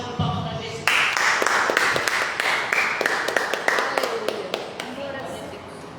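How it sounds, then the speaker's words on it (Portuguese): Church congregation applauding: a dense round of hand clapping starts just under a second in and carries on for several seconds, with a voice speaking over it throughout. "Salve de palmas para Jesus."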